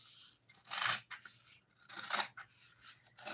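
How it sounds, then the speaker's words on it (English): Scissors snipping through a strip of batik fabric, a series of crisp, close cutting and rasping strokes in uneven bursts, with no talking. "I'll cut one more strip."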